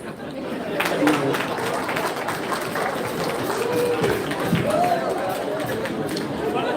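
At a wedding gathering, guests applaud honoured speakers; steady clapping from the crowd mixes with lively chatter and voices that ride over the applause throughout.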